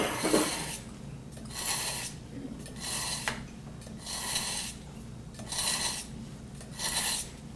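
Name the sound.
knife being sharpened with a small sharpening device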